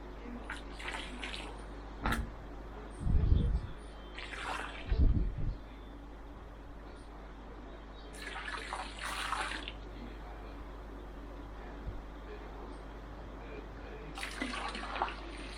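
Water poured and splashing into a koi pond as a treatment mix goes in, a few short bursts over steady outdoor background hiss, with faint brief voices.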